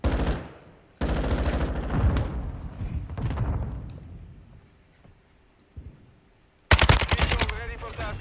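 Heavy automatic gunfire in Call of Duty: Modern Warfare II, loud close bursts that cut off abruptly, fade to near silence, then return in a sharp, intense volley, with game radio chatter underneath.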